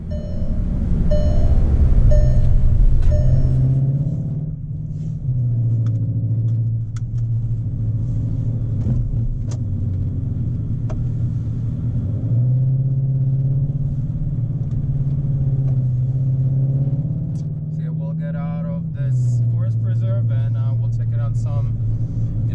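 Inside a 2020 VW Jetta GLI Autobahn edition on forest roads, a steady low engine drone rises and falls as gears change, loud and constant.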